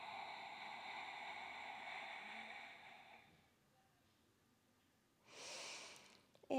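A long, steady exhale during a back-strengthening floor exercise, soft and close, fading into quiet before a brief louder breath or rustle near the end.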